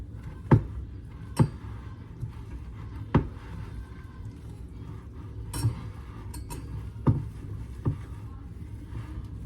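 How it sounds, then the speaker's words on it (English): Graham gem batter with melted shortening gets stirred in a bowl, giving sharp, irregular clinks and knocks of a utensil against the bowl over quiet, faint background noise. "And then just mix it up to form a batter."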